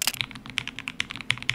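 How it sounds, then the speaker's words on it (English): Fast typing on a Lofree Lite low-profile keyboard, crisp light clacks in quick uneven bursts, close up and alone without talk. "Before you look down on low profile keyboards, this is what it sounds like."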